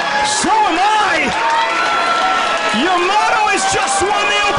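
Crowd at a BxB Kings wrestling show in New York reacts to a new champion with a loud, sustained murmur and scattered shouts beneath a commentator talking over it.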